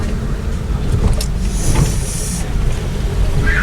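A bus rumbles past close by on a narrow village lane in rural Majalengka, a steady low engine drone with a brief hiss of air, loud and continuous, no talk over it.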